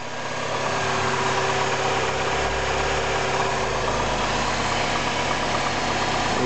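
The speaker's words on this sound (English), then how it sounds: "I'll start her up and show you some exhaust sound, the engine sound" Steady idle of a 2005 Chevrolet Cavalier engine, with a constant low rumble and even mechanical hum heard close and alone for the whole stretch.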